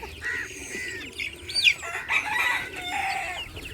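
Chickens cluck and call close by as they peck at free food, a rooster crowing among them, with a brief flutter of wings and no talk.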